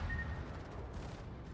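Warship guns firing armor-piercing shells in the World of Warships naval battle game, a dense rumbling barrage of heavy booms rolling continuously with a low, thick roar throughout.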